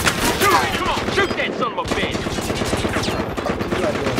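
Rapid bursts of automatic gunfire crackle almost nonstop in the video game Battlefield Hardline, dense and loud with a brief lull mid-way, with faint game voices underneath.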